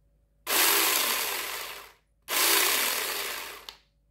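JPOWTECH 21V battery-powered mini chainsaw running after a battery pack repair, two loud, even bursts of motor whir of about a second and a half each, separated by a brief pause, close up with no talk.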